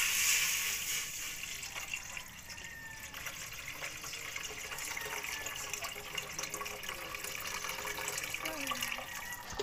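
Water is poured steadily into a cooking pot while making sinigang na tilapia, a continuous close rushing fill lasting several seconds with no speech.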